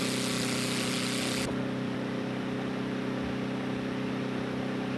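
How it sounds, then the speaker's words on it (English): A Scottish Aviation Bulldog's engine running again after a restart in X-Plane 11, a loud steady drone with a constant low hum, a bright hiss briefly layered on top at the start, and no talk. "And the engine started again."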